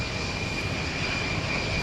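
A fixed-wing airplane taking off at Houston Intercontinental Airport, with a steady, loud, broad engine roar that holds level throughout.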